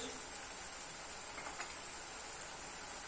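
Mushrooms sauté in a pan for chicken karnıyarık, giving a steady, soft, continuous sizzle and hiss with no talking.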